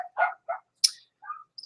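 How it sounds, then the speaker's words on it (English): Several dogs bark outdoors in short, separate bursts, a few sharp yips and barks spaced across the moment, fairly close and clear with quiet gaps between them. "my dogs are outside and they're barking"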